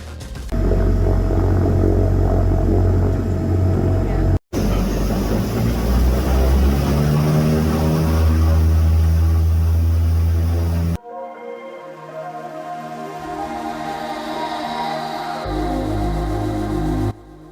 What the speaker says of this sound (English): If you love engine noise, that's great. Otherwise, there isn't much insulation and it was too noisy to talk.